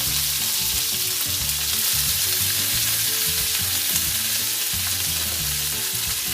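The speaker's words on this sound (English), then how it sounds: "enough oil to cover the bottom of the wok, and we're going to add the cabbage." Cabbage fries in hot oil in a wok, a loud continuous sizzle with rhythmic scraping and tossing from stirring, close up and with no voices.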